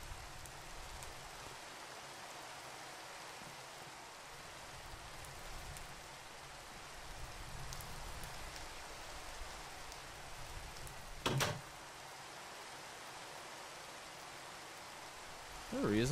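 Soft steady rainfall in the video game SevTech Ages, a faint continuous hiss of drops with a brief louder crackle partway through and no voices over it.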